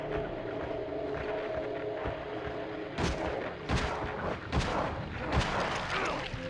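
Gunshots in the PS2 video game Silent Hill: Origins, four or five sharp, booming shots fired at irregular intervals over a low, murky ambient drone.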